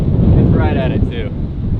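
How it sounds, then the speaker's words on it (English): Strong wind buffets the microphone on a golf course, a loud continuous low roar, and a voice talks briefly over it. "That's how hard this wind is blowing."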